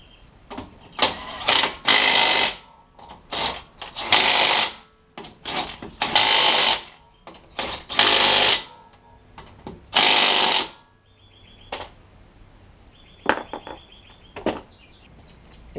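An impact-type power tool fastens the wheel lug nuts on a Civic FA5 Mugen Si in loud, rattling bursts of one to two seconds each, with short gaps between them and quieter mechanical clicks and whirs toward the end.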